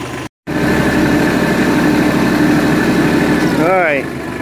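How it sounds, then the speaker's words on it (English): A tractor engine idles and runs steadily up close, a continuous mid-pitched rumble that holds level, then briefly revs and shifts near the end, with a short dropout near the start. "So let me move the tractor down here,"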